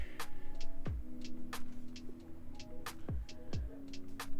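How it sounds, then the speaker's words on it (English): Mechanical whirring with repeated sliding motor sweeps and short ticks, a steady low hum beneath, close by with no voices. "here's the printer right here"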